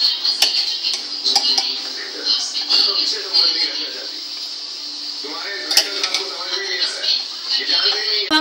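Mutton pulao made with whole garam masala and whole red chillies is stirred in a metal pot, giving repeated scraping and clinking of a spoon against the pot, close and fairly steady throughout.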